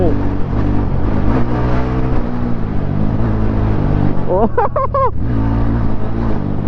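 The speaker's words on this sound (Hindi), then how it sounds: "ओ भाई चला रहे अपनी बाइक।" A motorbike ride on a road, the engine droning steadily up close with gear changes and revs, while someone talks and a vehicle horn sounds briefly.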